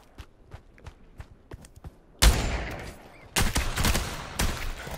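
Footsteps tap quietly, then bursts of close, loud gunfire break out in the VR shooter Pavlov: one long automatic volley, a pause, then two more rapid bursts.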